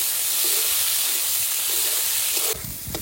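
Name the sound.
sliced green chilies and chopped onion frying in a pan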